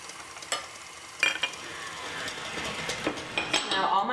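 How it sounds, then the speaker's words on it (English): A spatula scrapes around a bowl of gluten-free cake batter with eggs just added, giving soft repeated swishing strokes and occasional light clinks against the bowl, fairly quiet and close. "Now all my eggs are in. I'm just going to scrape around."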